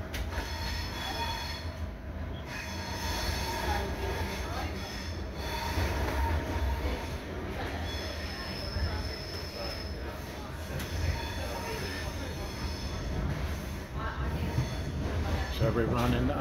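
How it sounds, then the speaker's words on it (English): A hybrid railcar runs on full electric power with no diesel engine, giving a steady interior rumble with wheel squeal and high whines throughout, heard from on board with no engine throb. "So we're running under full electric power, no diesel motor running at all at the moment."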